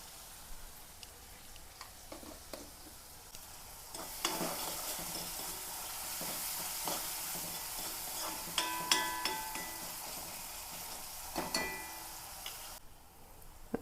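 Onions and green chilies sizzle in a hot pan while a utensil stirs and scrapes them, the frying growing louder and busier midway with sharp clicks, then dropping off near the end; no talking.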